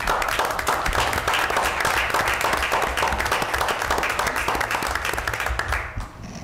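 Sustained applause from an audience at a city council meeting, dense and even, continuing for several seconds before tapering off at the end.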